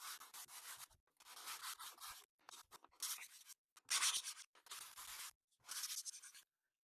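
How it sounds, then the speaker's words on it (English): Repeated rough back-and-forth scraping strokes of wood rubbed on sandpaper, close up, in an irregular rhythm with brief pauses between strokes. "I'll just rub this on some sandpaper and thin it out"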